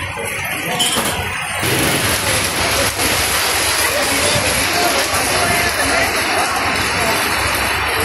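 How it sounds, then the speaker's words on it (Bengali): Heavy rain falls on a village in Bangladesh during the rainy season, a loud and unbroken wash of noise that lasts throughout, with voices faint underneath. "তো কঠিন বৃষ্টি নামছে একদম।"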